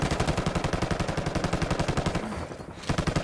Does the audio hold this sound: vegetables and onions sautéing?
no